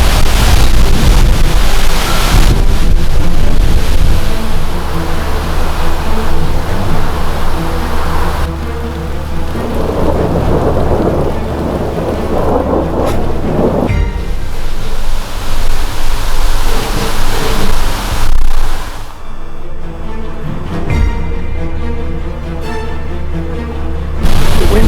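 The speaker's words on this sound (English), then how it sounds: "The wind's really picking up." Strong wind gusting across a remote hilltop near a church site, a loud, steady broadband roar that swells and eases in surges for the whole span, with no talk.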